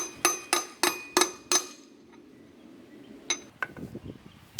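A bearing race is tapped into the front brake hub of a Honda CT70 Dax: five sharp, evenly spaced metallic hammer strikes ring out close by, followed after a pause by a few lighter, scattered clinks and taps.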